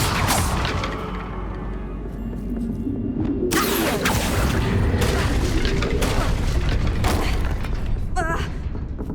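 Bombarda blasting spell explosions in the game Hogwarts Legacy, loud booming blasts with crashing bursts around 3.5, 5 and 7 seconds over a dense, continuous rumble of game battle noise.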